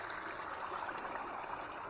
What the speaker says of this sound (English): this is the beginning of a creek